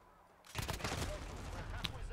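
Gunfire from the video game Call of Duty Modern Warfare multiplayer: after a quiet half second, a rapid burst of shots erupts and continues densely, loud and close, with a brief sharper blast near the end.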